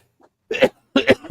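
A sharp, explosive burst stands out after a faint intake, then a second, louder double burst follows, both close and voiced like a person's sneeze; nobody speaks.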